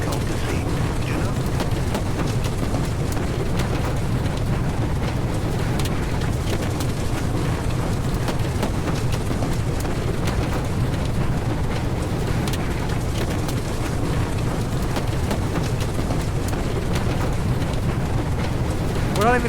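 Heavy rain pours steadily and loudly in the tornado video game Twisted, a dense, unbroken roar that lasts the whole stretch with no gaps.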